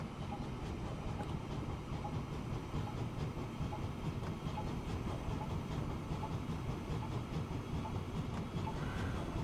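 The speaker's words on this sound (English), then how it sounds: "Ride along with the train for a minute." A train running in the video game Transport Fever 2 gives off a steady rolling rumble with a faint rhythmic clatter and a light hiss, continuous and even throughout.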